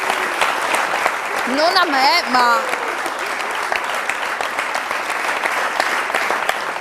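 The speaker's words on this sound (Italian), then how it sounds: "Un applauso così..." Studio audience applause fills the background for several seconds as a steady wash of clapping, with a host's voice speaking Italian over it near the start.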